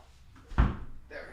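An indoor door swings shut with one dull, muffled thud at close range, brief and low, followed by quiet room tone and a soft trailing rustle.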